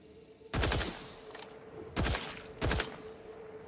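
Gunfire from a weapon in the video game The Outer Worlds 2, three loud close bursts of shots with short pauses between them and a faint steady tone underneath.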